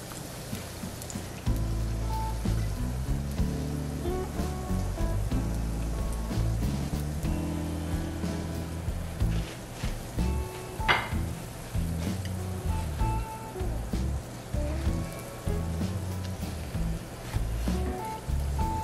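Whiskey apple pies frying in hot oil, a steady crackling sizzle with small irregular pops throughout and one brief sharper spatter partway through, close and continuous without talk.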